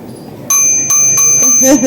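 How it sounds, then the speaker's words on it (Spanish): A newly fitted bicycle bell rings four or five bright, loud times in quick succession close by, while a voice speaks over the last rings. "encima nos ha regalado un timbre este hombre"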